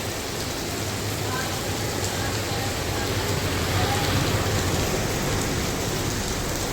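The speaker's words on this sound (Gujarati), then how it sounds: "વરસાદ તો ફૂલ આમ ફૂલ વરસાદ ચાલુ થઈ ગયો" Heavy rain pours down in a dense, unbroken roar that swells slightly midway, steady and close throughout.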